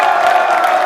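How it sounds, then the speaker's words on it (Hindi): Crowd cheering and whooping at a law college quiz show, a loud, dense burst of voices lasting under a second. "तालियां जोरों से बजाइए।"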